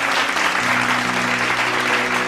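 A crowd at a Sindhi Jhulelal bhajan gathering claps for the singers, a thick, steady burst of applause with a sustained musical tone humming underneath.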